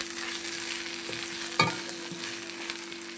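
Ginger garlic paste and curry leaves frying in oil for a chicken fry, a steady close sizzle with one sharp spoon scrape or clink near the middle, no voices.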